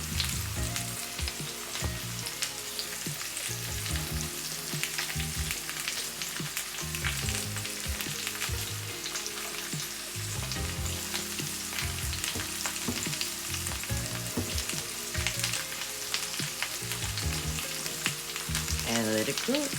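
Ham steaks seasoned with Old Bay fry in a pan, giving a steady, close sizzle and crackle that runs unbroken and fairly loud throughout.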